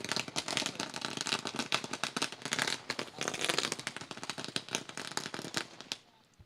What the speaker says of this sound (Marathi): फटाक्यांच्या आतषबाजीनं आपण मान्यवरांचं स्वागत या ठिकाणी करत आहोत